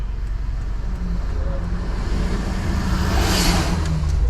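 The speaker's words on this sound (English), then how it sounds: "there's a truck coming" A truck speeds past on an open road, heard from inside a car as steady road and engine rumble that swells toward the end as the truck draws close.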